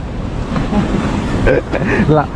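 Wind and sea surf at a beach in Cha-am–Pranburi, Thailand, form a steady, loud, broadband roar throughout, with a person speaking over it partway through.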